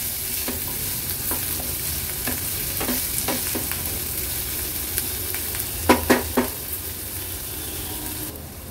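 A medium-sized, finely chopped onion fries on a low flame in a little oil, giving a steady soft sizzle with a few sharper stirring scrapes and clicks near the middle.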